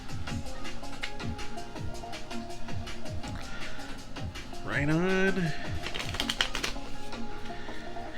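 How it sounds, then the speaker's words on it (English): A deck of sturdy game cards is shuffled by hand, giving a steady run of light papery clicks and flutters, with a voice briefly speaking over them. "Let's give Deck B a good shuffle."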